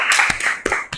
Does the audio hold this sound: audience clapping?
yes